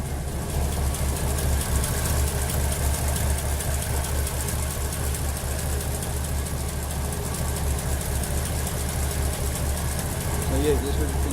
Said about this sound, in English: that's how it sounds the engine